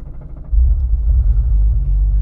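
Guntherwerks Speedster, an extreme Porsche 993 with no roof, starts up: a short crank, then a low engine rumble that settles into a steady, subdued idle close by.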